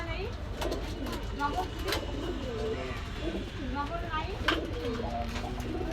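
Indian Lotan pigeons coo repeatedly in a shop, soft rolling throaty calls overlapping from several birds at close range over a steady background hum.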